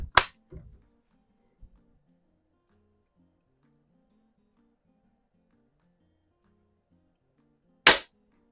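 Crosman Vapor Max air rifle fired at three pumps: a sharp crack at the start followed by small handling clicks, then a second loud crisp shot near the end, with quiet between.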